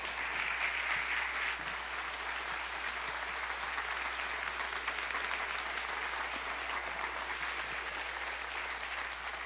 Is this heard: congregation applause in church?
yes